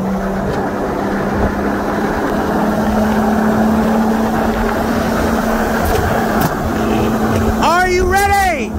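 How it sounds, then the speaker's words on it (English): A 2016 BMW M4 with bolt-on upgrades running E30 fuel, heard from inside the car while cruising for a 60 mph roll: a steady, loud engine drone that holds level, with voices talking over it inside the cabin. "So I'm here in the BMW, and we are gonna do a 60 roll."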